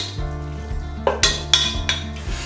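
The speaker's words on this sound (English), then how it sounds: "we're just going to cook this for a few moments, just until it begins, some of the bacon's fat begins to leach out into the pan" Bacon starting to fry in a soup pot, a soft sizzle beneath a few sharp clinks and scrapes of a metal utensil against the pan, with a low steady hum running throughout.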